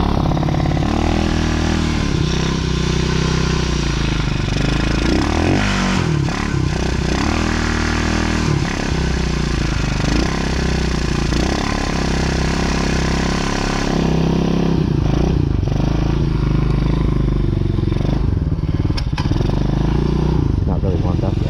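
Motorcycle engine running cold with the choke just switched off, a loud steady rough drone that continues throughout, with a brief voice over it.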